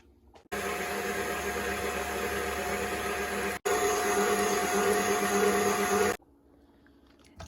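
A running electric mixer beats cookie dough with eggs and vanilla, a loud steady whirring drone that briefly cuts out and restarts, then stops; no speech.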